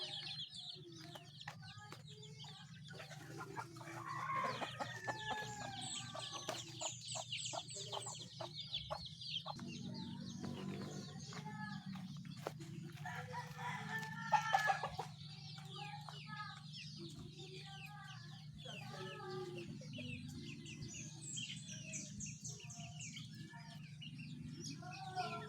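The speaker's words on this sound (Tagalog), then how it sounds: "Kukunin ko muna yung alaga natin sisiw." Small chick peeping repeatedly with faint clucking fowl in the background, steady chirps across the whole stretch at moderate, close range, with no talk.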